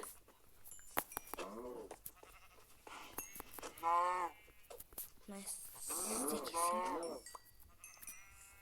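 Several synthetic-sounding sheep bleats from Minecraft ring out in short bursts, some overlapping, against a quiet background with occasional clicks.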